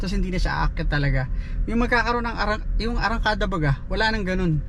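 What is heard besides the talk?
No everyday noise stands out behind the speech.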